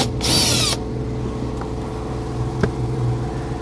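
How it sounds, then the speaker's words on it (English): A 10 mm socket works a fastener threaded directly into metal on a 2017 Toyota during a trailer brake controller install, giving a short burst of ratcheting or whirring near the start, then a few faint clicks over a low steady hum. "We're going to go ahead and just remove that fastener with a 10 millimeter socket."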